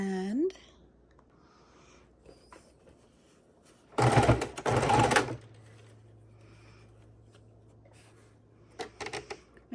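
A sewing machine stitches along the very edge of a paper junk journal cover in one short, fast burst of rattling, with scattered quiet clicks and handling before and after.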